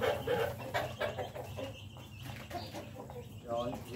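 Chickens clucking close by in short repeated bursts, with some voices in the background.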